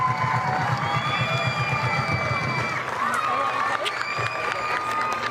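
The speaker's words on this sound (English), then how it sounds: "that great cheer from the Western United fans" Western United supporters cheer in a stadium during an A-League match against Newcastle Jets, a loud, sustained crowd roar that holds steady throughout with voices mixed in.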